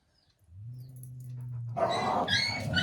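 Small puppies whine in a long, thin steady tone, then break into several yelps and excited whimpers, close by and fairly quiet.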